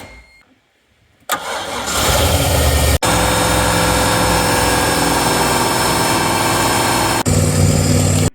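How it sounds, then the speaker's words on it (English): A freshly installed boat engine cranks over after a brief quiet start, catches, then settles into a loud, steady close-up idle that runs unbroken for several seconds before a short break and resumption. "try and start it up"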